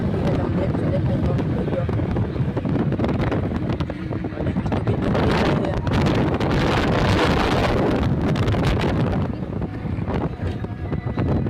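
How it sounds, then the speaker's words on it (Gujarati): Strong wind buffets the microphone along a highway on the way to a cement plant, a steady, loud roar of rumbling gusts lasting throughout with no break. "પવન"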